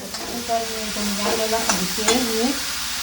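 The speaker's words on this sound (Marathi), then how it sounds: "कांदा परतून घेतला आईने." Onion sautés in oil in a pan at home with a continuous close sizzle. Faint wavering tonal sounds drift over it.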